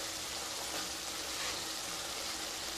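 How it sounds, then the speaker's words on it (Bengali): Fried potatoes sauté with spices in a pan over low to medium heat for mutton-fat ghugni, giving a steady, close, even sizzle with no breaks. "আলুগুলো দিয়ে আবারও খুব ভালোভাবে কষিয়ে নেব।"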